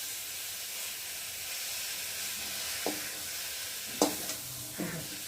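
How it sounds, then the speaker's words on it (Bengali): Tomato for a vegetarian aloo dum is frying with potatoes in a pan while a spatula mashes it, giving a steady hiss of sizzling with a few soft scrapes and taps near the end, close and moderate in level. "তাহলে একটু খুন্তি দিয়ে টমেটোটাকে ফাটিয়ে দিই।"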